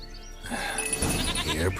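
Goat bleating in The Witcher 3, a short wavering cry that rises out of quiet game ambience and holds for about a second, fairly close.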